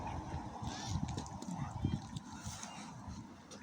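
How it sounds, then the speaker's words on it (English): Ducks calling near water at a campsite, a few honking, goose-like calls over steady outdoor background noise, with some voices faintly mixed in. "There's some ducks over here."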